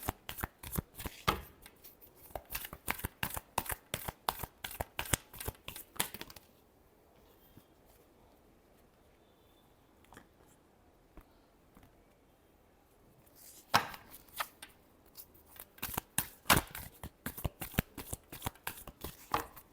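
A tarot deck is shuffled up close in two bursts of rapid, riffling card flutters separated by a quiet gap of several seconds, without any talking.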